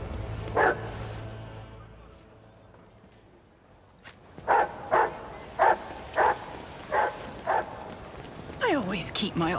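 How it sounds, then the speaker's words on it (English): A dog in a video game barks repeatedly, about seven evenly spaced single woofs at moderate loudness over a soft ambient background, after an earlier isolated bark. "Where's my dog running around?"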